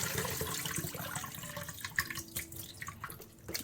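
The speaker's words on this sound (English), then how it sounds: "Drain off the water from the salt beef." Water poured off salt beef into a sink, a continuous close splashing pour with gurgles and drips, steady and unbroken without any talk.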